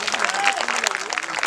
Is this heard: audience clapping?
yes